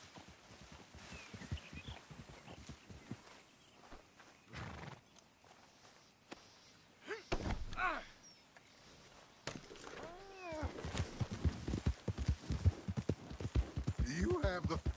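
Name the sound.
horse hooves in the video game Red Dead Redemption 2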